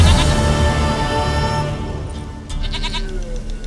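A goat in The Witcher 3 bleats loudly and close, a wavering cry that trails off, followed by quieter game ambience.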